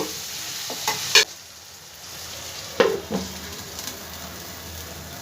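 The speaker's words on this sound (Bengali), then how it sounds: "দেখো ভালো করে আলুর সাথে মশলাগুলো আবারও একটুখানি কষিয়ে নেব" Spiced fried potatoes stirred and sautéed in a pan for a vegetarian paneer aloo dalna, giving a quiet steady sizzle with a few sharp scrapes and knocks of the utensil against the pan, no talking.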